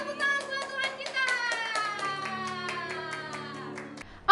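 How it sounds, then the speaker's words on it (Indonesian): Children clap their hands in a church children's worship service, quick regular claps over sustained keyboard-like tones, ending with a brief loud bump. "Tepuk tangan buat Tuhan kita."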